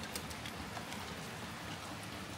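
Heavy rain pours down outdoors in a steady, dense hiss with scattered droplet patters, soft and even throughout with no voices.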